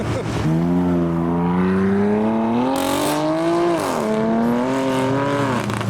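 Modified cars pull away from a car meet one after another, engines droning and revving loudly and close by, with rising and falling pitch as they accelerate past.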